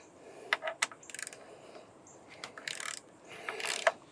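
A ratchet clicks in short bursts while loosening the roof bolts on a Jeep, with quick metallic ratcheting strokes separated by brief pauses and small clinks, close and fairly quiet.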